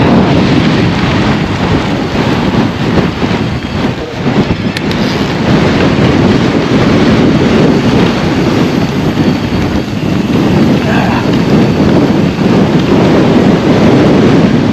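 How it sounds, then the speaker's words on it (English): A strong headwind buffets the microphone while someone rides an e-mountain bike cross-country around Windy Gyle in Northumberland, making a loud, continuous rushing roar that lasts the whole stretch with no talking. "shame about that headwind, that's really slowed me down"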